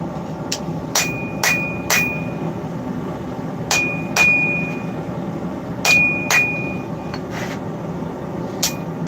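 A blacksmith's hammer strikes hot metal on an anvil to flatten it, sharp ringing clangs falling in loose clusters of two or three blows with short pauses between, close and loud.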